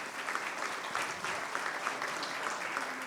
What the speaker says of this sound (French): Quelques applaudissements pour ce...